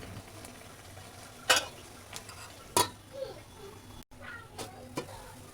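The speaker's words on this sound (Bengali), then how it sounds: "তুলে খুন্তির সাহায্যে নাড়ে চাড়ে উল্টে পাল্টা করে দেবো" Kochu shak greens are stirred with a spatula in a wok, giving a few sharp metallic scrapes and clinks over a quiet background sizzle.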